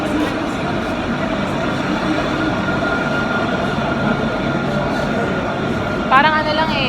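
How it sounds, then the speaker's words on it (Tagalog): A street tram in Morocco rolls past with a steady rumble and rattle of wheels on rail, close by. Voices can be heard over it, and a brief screech rises near the end. "Meron silang train tram."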